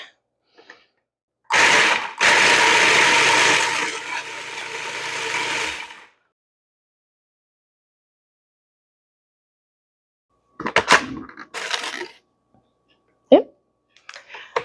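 Food processor crushing chocolate cookie sheets for a tart crust, a loud grinding whir for about four seconds, then silence and a few short later bursts of pulsing.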